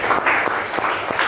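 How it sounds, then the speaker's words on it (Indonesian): A classroom group gives a short burst of applause after an entrepreneurship lesson, loose clapping with a few uneven pulses, fairly close and loud. "Oke, terima kasih, tepuk tangan atas."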